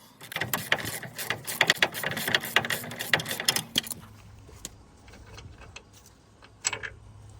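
A ratchet on an extension loosens the wheel bearing bolts of a RAM 1500 with rapid, dense clicking for about four seconds, followed by sparser, quieter ticks and metallic handling, close by with no talking.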